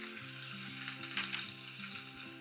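Chopped garlic and green chillies fry in oil with mustard seeds and cumin for an aloo stuffing. A quiet, steady, close sizzle comes with faint popping and no voices.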